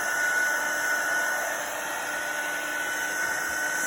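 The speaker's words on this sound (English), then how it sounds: "I'm going to do the heat tool really quickly because they're not drying quickly" A heat tool runs steadily close by while it dries wet craft pieces, giving a loud, continuous blowing whir with a high whine and no talking.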